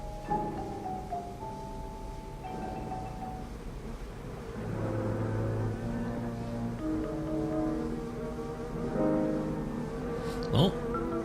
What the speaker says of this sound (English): there's something that sounds like a bee up there. Or even several bees.